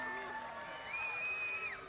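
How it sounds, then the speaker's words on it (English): Fans cheering and whooping at the arrival of Cristiano Ronaldo's team bus for a training camp at St Mirren Stadium, with rising shouts and a high sustained whistle-like cry over a moderately distant, steady crowd din. "You can hear the fans just cheering his arrival."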